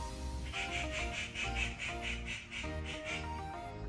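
Repeated harsh bird squawks in a quick series, moderately near, over a low background hum.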